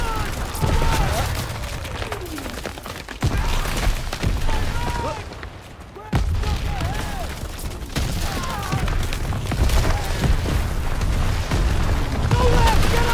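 War video game battlefield under artillery fire, dense booming blasts and rumbling impacts rolling on continuously, with shouting voices mixed in, a brief lull near the middle before the barrage resumes.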